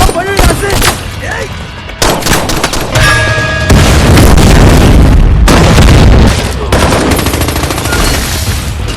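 Loud, dense gunfire and booming explosions from an action film about an elite special forces infiltration unit, with rapid bursts and heavy blasts continuing nearly without pause.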